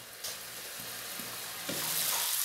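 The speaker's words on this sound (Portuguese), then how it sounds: "meu bacalhau já está refogado" Salt cod (bacalhau) sautéing in a covered pan, a steady close sizzle and hiss that stays even throughout, with a few faint knocks and no talking.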